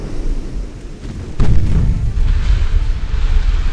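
Naval secondary guns firing in the warship game Ultimate Admiral Dreadnoughts: a loud, deep boom hits sharply and rolls into a sustained rumbling roar, with a few lighter thuds underneath.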